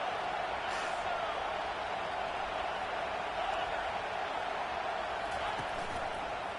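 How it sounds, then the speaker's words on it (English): Steady, dense stadium crowd roar from the College Football 25 video game during a third-down defensive stand, a continuous wash of cheering that swells slightly without breaks. "Decibels rising as the crowd gets behind this defense on third down."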